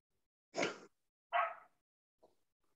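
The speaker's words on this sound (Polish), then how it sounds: "Co najwyżej psy szczekały po niemiecku." Two short dog barks a moment apart, fairly close and clear, followed by a faint brief yip, with no talking.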